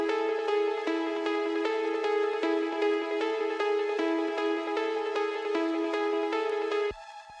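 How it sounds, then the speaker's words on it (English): A bright sustained synth chord with a glittering, shimmery upper layer from a crystallizer effect, pulsing in a steady repeating rhythm, loud and alone, cutting off near the end. "It also has a crystallizer on it to give it that shimmery effect."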